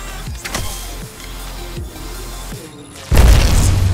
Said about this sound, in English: If you have a grenade, just throw it at your feet.